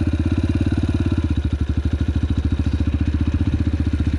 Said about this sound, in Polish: Słyszycie, jak silnik chodzi?